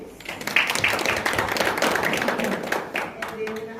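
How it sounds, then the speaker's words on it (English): An audience gives a round of applause at a prelaunch training event: close, steady crowd clapping across the whole stretch, with voices mixed in underneath. "So can we give them a round of applause?"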